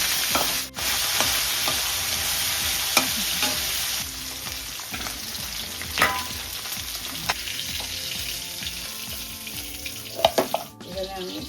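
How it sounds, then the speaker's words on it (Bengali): A Katla fish head fries in a kadai with a continuous close sizzle, broken by occasional scraping and clattering knocks from stirring. "আমি মাছের মাথাটারে অন্য একটা কড়াই নিতে ভেজে নেব"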